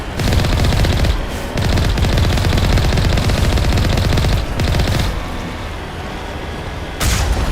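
Sustained automatic gunfire from the Mass Effect 1 video game, loud rapid bursts broken by short pauses, with dense rattling shots and heavy booms throughout.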